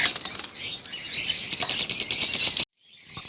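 Green ring-necked parrots and lovebirds in a breeding aviary make close, shrill chirping and squeaky calls along with wing flutters. A fast run of repeated chirps comes before the sound cuts out abruptly, then resumes faintly.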